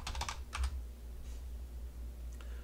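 Typing on a computer keyboard while entering text into business software: a quick cluster of soft key clicks followed by a few more taps, faint over a low steady hum, with no talking.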